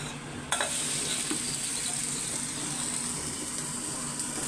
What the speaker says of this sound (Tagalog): Tapos nagluto ako ng prito. Prito mga idol, pritong baboy.